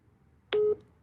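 A brief telephone line tone over a radio call-in broadcast after the caller disconnects, heard as a single short electronic beep-like burst lasting about a quarter second against quiet background hiss.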